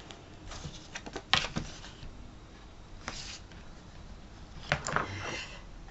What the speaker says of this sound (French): Je vais mettre mon scotch.